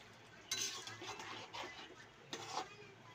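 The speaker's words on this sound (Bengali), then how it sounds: "এই মশলাগুলো দিয়ে এবার আমি ভালো করে নেড়ে নেব।" A spoon stirs chicken with coriander and Kashmiri chilli powder in a kadai, making soft scraping strokes against the pan with two sharper scrapes, all faint and close over a low background hiss.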